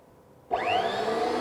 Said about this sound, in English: those are one which will cut the thread on the pipe